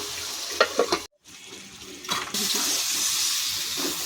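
Water pours into a pan of fish curry with potato and tomato, a brief sizzle and stirring giving way to a sustained rushing splash as the liquid goes in.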